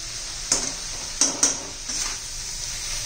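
Chopped coriander is stirred into bitter gourd frying in a pan, with a few distinct spoon scrapes and clinks over a soft, steady sizzle, close and fairly quiet.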